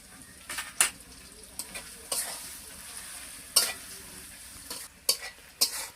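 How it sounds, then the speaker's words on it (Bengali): Onions fry in a pan with bay leaves and salt, hissing steadily while a utensil scrapes and stirs in sharp, intermittent strokes against the metal. "পেঁয়াজ ভালোভাবে ভেজে নিলাম।"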